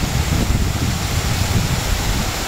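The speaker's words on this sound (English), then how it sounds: "is gusting at about 100 kilometres or more up here. It is howling." Strong wind gusting at about 100 kilometres an hour on a mountain lookout at Springbrook National Park in Australia roars as a loud, steady rumble, buffeting the microphone with no pauses.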